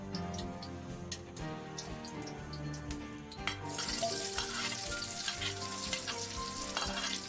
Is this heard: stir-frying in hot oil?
yes